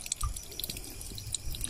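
Water dripping from a leaking pipe joint patched with wood near a spring, a scatter of small, close drips and splashes over a faint running-water background.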